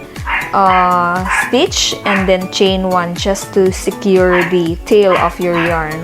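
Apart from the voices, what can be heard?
miniature pinscher dog barking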